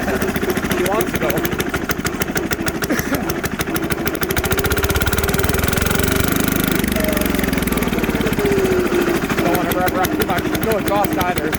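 Diesel engine fitted to a Sears garden tractor with no exhaust system, running loud and steady with a rapid rough pulse throughout, close by and unmuffled, with a slight rev change midway.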